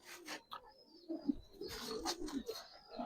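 Giribaz pigeons cooing softly at close range, several low throaty coos scattered among rustling and faint handling noises, with quiet chirps alongside.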